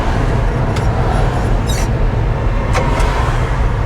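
A 1967 Ford F100 pickup truck's engine drones steadily in second gear with constant road rumble, loud and close, as if heard from inside the cab while driving.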